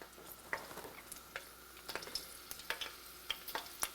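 Italian peppers fry in a home pan with a faint, steady sizzle, broken by scattered soft pops and scraping clicks; no one speaks.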